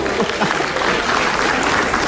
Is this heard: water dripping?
no